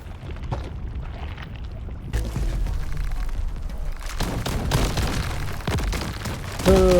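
Volatile explosions in a video game boom in a rapid string of bursts over a steady rumble, growing denser midway and ending in a loud, close blast.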